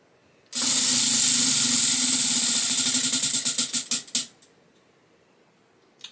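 A book-choosing spinner wheel is spun: a loud whirring rush of rapid ticks slows into separate clicks and stops after about four seconds.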